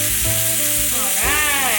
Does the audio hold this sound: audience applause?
no